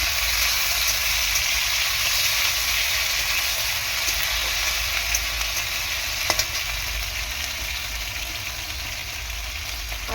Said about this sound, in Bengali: অল্প করে আদা রসুন বাটা দিলাম।